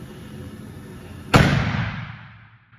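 A single sharp, deafening bang from a propane pigeon scarer on a farm, set for test firing, bursting suddenly out of low background noise and ringing away in a long fading tail.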